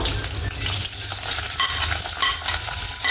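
Onion frying in hot oil with curry leaves for a traditional val-bean birde curry, a loud steady sizzle with constant close stirring scrapes, no voices over it.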